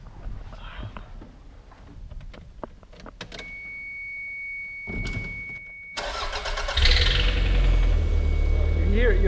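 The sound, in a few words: 90's Japanese car engine starting and running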